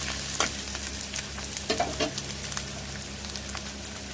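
Spices fry and sizzle in a pan with a low, steady crackle, broken by a few light stirring scrapes and taps; close but fairly quiet, no voices.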